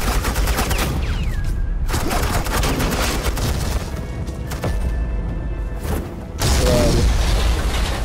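Rapid, loud gunfire bursts from Batman: The Telltale Series Season 2 (The Enemy Within) suppressing fire, crackling continuously with brief pauses and booms.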